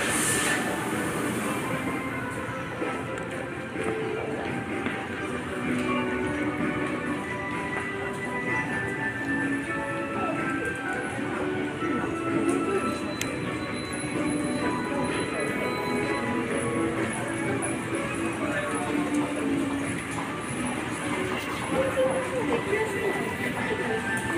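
Underground subway station at Tenjin in Fukuoka, Japan: a steady, dense hum of crowd chatter, footsteps and echoing platform noise with train rumble, continuous and fairly loud, with people talking throughout.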